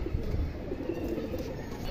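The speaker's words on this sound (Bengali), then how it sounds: "এই দেখেন খুব সুন্দর কবুতর" Indian high flyer pigeons coo steadily and close by, a continuous low murmuring over a constant background hiss with no clear breaks.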